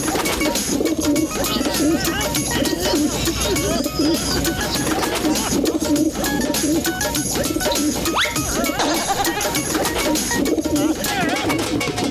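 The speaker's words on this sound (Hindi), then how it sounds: "कबूतरों ने तो जीना मुश्किल कर दिया है।" Pigeons coo in a cartoon scene in a continuous, busy layer of repeated throaty calls, loud and close, with other animated noises and clatter mixed in and no talking.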